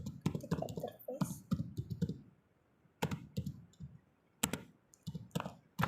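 Fingers type commands on a computer keyboard while configuring a MikroTik router, giving quick bursts of close clicking keystrokes split by short pauses.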